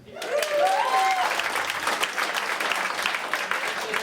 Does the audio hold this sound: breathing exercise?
no